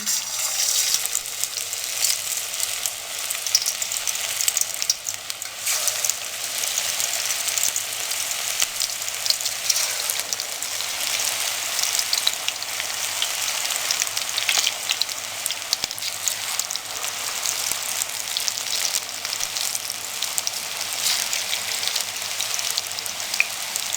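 Pakoras deep-frying in two cups of hot cooking oil over a medium flame give a steady, dense crackling sizzle that holds evenly throughout with no voices.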